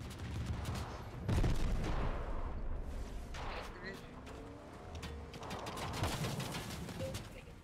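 Gunfire in Fortnite Chapter 3 Season 2: bursts of shots and explosive thuds crack through a busy game soundscape, with a loud blast near the start and scattered reports afterward, under excited talk.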